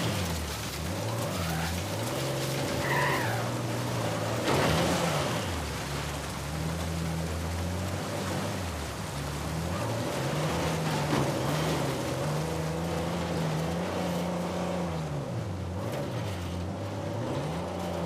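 A 4x4 with a winch driving off-road through rain and mud in the video game Uncharted: Legacy of Thieves, its engine droning and rising and falling in pitch under a steady rain-like wash of noise, with no talking.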